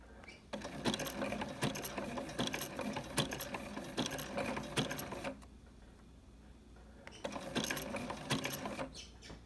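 A sewing machine stitches a candy cane coaster in steady, close rapid bursts, runs for about five seconds, pauses briefly and then resumes for a shorter backstitch run.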